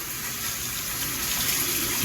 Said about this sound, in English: turn your water faucet on first